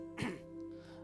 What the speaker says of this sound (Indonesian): Batuk dikit.